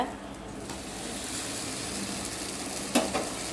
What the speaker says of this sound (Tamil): தோசை ஊற்றி